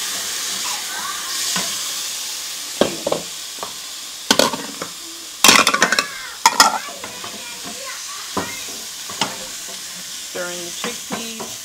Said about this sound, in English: Stirring the chickpeas.